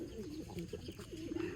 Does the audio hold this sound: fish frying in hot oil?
no